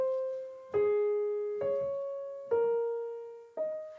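A solo piano plays a slow opening passage from Beethoven's Sonata No. 31, Op. 110, four soft, simply harmonized chords struck one after another, each left to ring and decay before the next.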